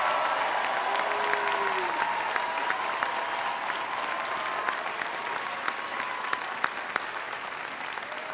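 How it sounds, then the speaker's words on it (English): A town hall crowd at a health care reform event in New Hampshire breaks into a big round of applause: thick, sustained clapping with scattered sharper claps and faint cheering throughout. "Paul Hodes, Carol Shea Porter, give them a big round of applause."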